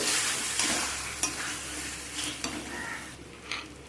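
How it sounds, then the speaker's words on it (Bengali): A spatula stirs vegetables and spinach greens in a frying pan, steady sizzling broken by repeated scraping strokes and soft clanks of utensil on metal, close and moderately loud with no voices. "সবজি ভালো করে নাড়াচাড়া করে নেব"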